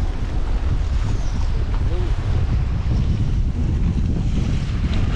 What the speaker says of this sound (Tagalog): Medyo malabo ang tubig dahil sa lakas ng alon. Gawa ng malakas ang hangin.